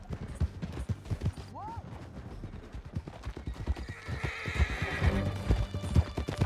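Horses gallop in a chase in Red Dead Redemption 2, hooves pounding in a fast, busy rhythm with a brief whinny, while gunfire and a voice mix in the background.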